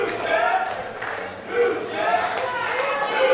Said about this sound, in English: The crowd chanting new champ.